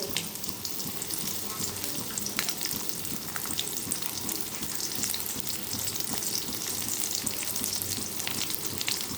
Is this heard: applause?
no